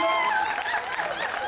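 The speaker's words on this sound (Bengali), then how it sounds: "আরেকবার হাততালি হয়ে যাক।" Audience applause at a Saraswati Puja dance event, a dense steady wash of clapping from a crowd lasting the whole moment, fairly loud with faint chatter mixed in.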